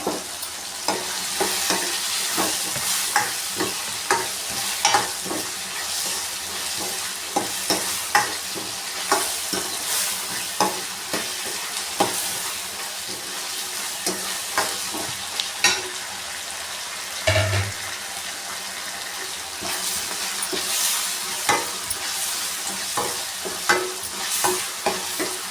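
Curry leaves sizzling in a pan while cooking khichdi with tomato: a continuous moderate sizzle punctuated by frequent sharp spatters and stirring scrapes, one heavier thump midway.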